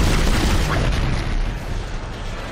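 Loud, continuous booming blasts from weapons fired in the sci-fi horror game Dead Space, a dense rumbling barrage filling the whole stretch with no talk.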